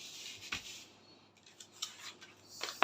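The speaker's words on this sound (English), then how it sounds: "So I'll just go ahead and cut out my cup." Scissors snip through a paper corset pattern piece for the cup, giving a few quiet, separate cuts with short rustles of paper between them and no talking.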